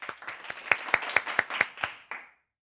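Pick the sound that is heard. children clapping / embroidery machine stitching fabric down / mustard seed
children clapping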